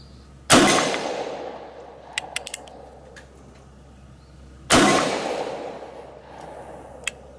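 A Colt Single Action Army revolver chambered in .44 Special fires two loud, sharp shots several seconds apart, each with a long echoing decay outdoors, plus a few faint clicks between.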